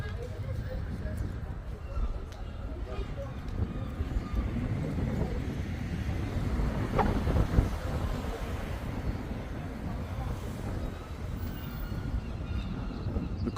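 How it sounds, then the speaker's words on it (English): Wind buffets the microphone on a town-centre shopping street in Southport, a steady low rumbling roar that carries through the whole stretch, with someone talking over it. "Try and get out this wind."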